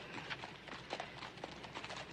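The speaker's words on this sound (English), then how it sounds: "get your horse to manage a livelier gait?" Horse hooves clip-clopping at a steady trot in an old Western setting, a faint, regular patter of hoofbeats over quiet background.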